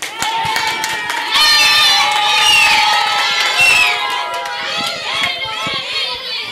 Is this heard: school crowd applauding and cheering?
yes